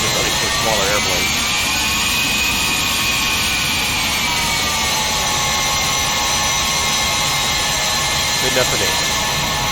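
Falcon 50 business jet in X-Plane 11 sits parked with its jet engine and APU running, a steady loud whine and roar throughout, with someone talking briefly over it.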